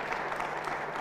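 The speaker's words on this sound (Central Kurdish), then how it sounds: "چەپڵەیەک دەیدەن کاکە" An audience applauds at a campaign talk given by a parliamentary candidate in Erbil, a brief, dense, steady wash of clapping with no voices.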